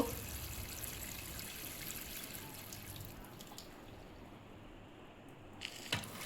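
Water is poured onto the soil around a young vetiver plant in a nursery. It makes a soft, steady trickle and splash, faint and continuous, with no voices.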